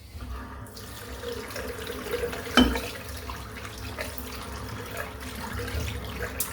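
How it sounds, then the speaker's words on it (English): Tap water runs steadily into a shaving bowl as it is rinsed out, a continuous close splashing stream with a brief louder clunk midway and no voices. "I'm just going to rinse my bowl out."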